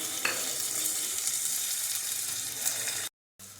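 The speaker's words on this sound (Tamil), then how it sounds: "இப்போ இதை ஆட் பண்ணி வெங்காயம் வதங்கும்போது அதில் கொஞ்சமாக உப்பு ஆட் பண்ணிக்கலாம்." Sliced onions frying in oil in a pan for mutton biryani, with a steady close broadband sizzle. A faint stirring clink comes early, and the sound cuts out briefly near the end.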